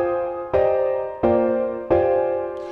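Synthesizer sounds from the reFX Nexus 3 plugin: three sustained chords struck at a steady pace, each with a bright, rich attack and slow fading decay, played alone without talk.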